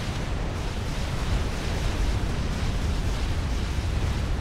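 Explosions in a Supreme Commander: Forged Alliance match as an HQ base is destroyed, a dense, continuous roar of rumbling blasts and bursts filling the whole stretch at steady loudness, with no voices.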